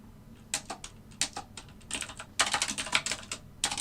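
Close, clattering bursts of typing on a computer keyboard, irregular runs of keystrokes separated by short pauses, with no voices.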